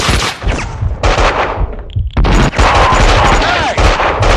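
Rapid bursts of gunfire crack out loudly and close, a dense barrage with a brief pause midway, while voices shout over the shots.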